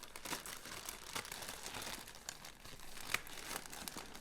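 Plastic wrap and tape crinkle and tear as the taped packaging of a Luxx Air Pro 2 hair styler is opened, a quiet, close, continuous rustle with small crackles and no talk.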